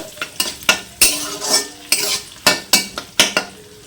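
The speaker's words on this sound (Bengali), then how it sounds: "ক্যাপসিকাম, গাজর, এগুলোকে আমি দিয়ে দেবো। এটাকে হালকা করে ভেজে নেব।" Capsicum, carrot and beans are stir-fried in a pan for fried rice: a close, rhythmic run of about a dozen sharp spatula scrapes and clanks against the metal over a light sizzle.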